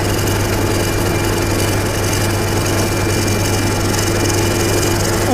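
A wood lathe makes a steady, loud, continuous drone as a heavier shear cut lifts fine whisper-thin shavings, with a constant low hum and broadband hiss running unbroken throughout and no voices.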